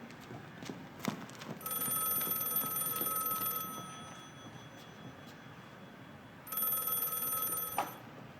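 A telephone rings in two long bursts separated by a pause, clear and fairly loud indoors, with a few faint knocks and movements before the first ring.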